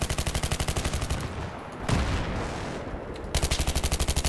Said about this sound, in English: I don't know what's shooting at me.